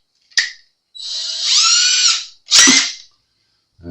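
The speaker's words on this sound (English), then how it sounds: "And you go to drilling your pilot holes." Pilot holes being drilled into a Sterling StingRay bass guitar body during a rebuild, heard as short, close bursts of a small whining drill, one sustained run bracketed by brief starts and stops.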